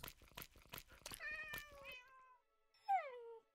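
Video game cat meowing in Minecraft, a few clear rising-falling meows close by, the first overlapping other game sounds and the last alone after a short pause.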